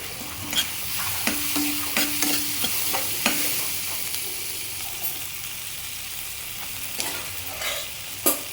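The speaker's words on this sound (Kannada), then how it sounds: "ಇದೆಲ್ಲದನ್ನು ಹಾಕಿ ಸ್ವಲ್ಪ ಚೆನ್ನಾಗಿ ಫ್ರೈ ಮಾಡ್ಕೋಬೇಕು" Masala seasoned with chaat masala is stir-fried in a pan for masala puri: repeated close scraping and stirring strokes over a low, continuous sizzle, alone with no voices.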